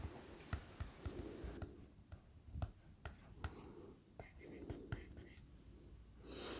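A thin, hard-nibbed BOOX Pen writes on a BOOX Note Air e-ink tablet, giving soft scratchy strokes broken by sharp taps and clicks. The sounds come at an irregular writing pace and are faint and close, with no talking.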